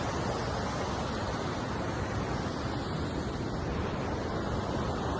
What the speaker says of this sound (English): As you can see the Ganges right here,